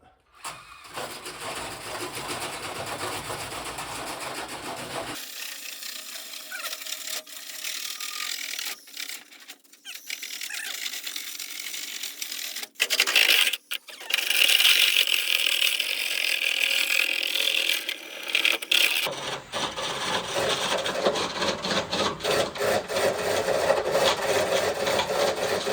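A handheld drill spins a chimney sweep brush along a house gutter, motor whirring loudly with scraping and rubbing bursts that stop and restart.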